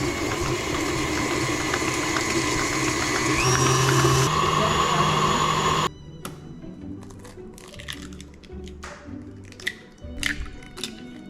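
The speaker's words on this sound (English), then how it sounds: "We're gonna cream the butter and sugar together." An electric mixer creaming butter and sugar whirs steadily and loudly for several seconds, then cuts out, leaving quieter scraping and clattering.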